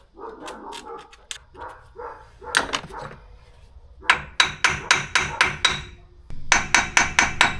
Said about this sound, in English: just sort of want to tap them so they just work themselves loose and they just pop out